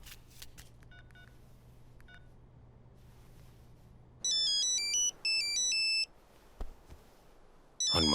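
A phone call in an action film: a few short dial-tone beeps, then a run of quick keypad tones as a number is dialed, followed by loud bursts of an electronic ringtone, heard close with no talking.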